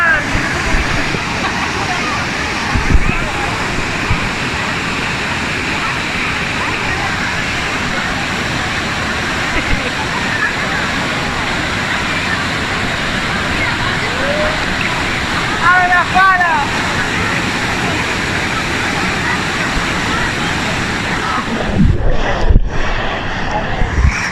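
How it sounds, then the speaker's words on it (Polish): A steady, loud roar of falling water fills the whole stretch, constant and dense, with brief splashy disturbances near the end. "Pod wodospad!"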